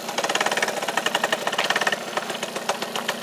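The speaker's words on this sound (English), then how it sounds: "Just riding a motorcycle." A motorcycle engine knocks along in a fast, steady pulsing rhythm while riding, close and moderately quiet with road noise behind it.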